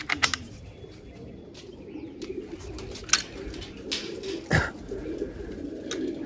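Pigeons coo softly nearby, with several short bursts of wing flapping scattered through the clip and faint chirps in the background.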